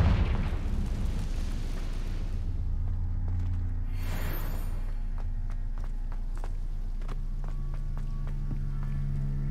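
A Confringo spell explosion in Hogwarts Legacy bursts once near the middle of the clip. It rises out of a low, steady rumble, followed by scattered footsteps and light clicks, with no voices.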